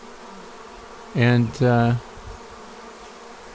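Honeybees from a swarm being installed at a hive, with two short, loud buzzing passes close by over a steady low background hum. One brief spoken word is heard.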